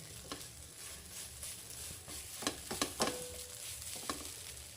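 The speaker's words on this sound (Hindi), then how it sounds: "तो उसको धीमी आंच पे ही खूब चलाते हुए भूनेंगे।" Green peas stirred and roasted in a pan on low heat, a soft steady sizzle with irregular scraping stirs and a few sharper clinks of the spoon, close and moderately quiet, no voices.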